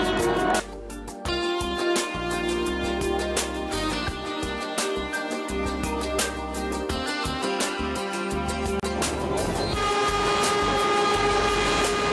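A train rolls steadily along the tracks, a continuous loud rumble with rhythmic clatter and rattling carriages, close and sustained throughout.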